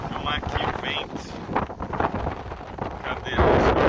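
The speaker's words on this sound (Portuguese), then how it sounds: "Vou filmar aqui o vento." Wind gusts across the microphone at a coastal national park of lagoons and beach, a rough, fluctuating rush that swells louder near the end, with a voice speaking briefly.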